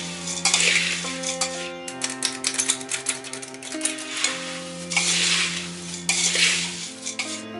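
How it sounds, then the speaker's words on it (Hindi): Homemade poha chivda with sev and boondi is stirred to work in spice powder, making repeated dry scraping and rustling strokes in a pan, with soft tonal music underneath. "पूरा पाउडर डाल देंगे और इस तरह से ऊपर थोड़ा थोड़ा स्प्रिंकल करते जाएंगे और इसे चलाएंगे, अच्छे से मिक्स करेंगे।"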